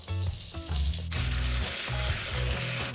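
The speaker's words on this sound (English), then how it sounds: "Ooh, hear that sizzle?" Beef for Beef Wellington sears in a hot pan with a loud, steady sizzle and crackle, continuous throughout, with a few low knocks of the pan or utensil near the start.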